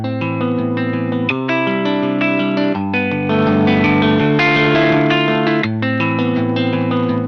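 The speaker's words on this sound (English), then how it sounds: "Electric Sunburst features awesome virtual guitar effects including distortion, modulation, mixing, reverb and delay, and amp and cab effects." Electric Sunburst virtual electric guitar for Kontakt playing sustained chords and picked notes through distortion, modulation and reverb effects, loud and continuous with shimmering, washy tails and no voices.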